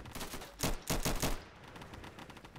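Gunfire in the video game Insurgency during a siege match: a quick burst of four or five sharp shots, loud and near, followed by fainter scattered distant firing.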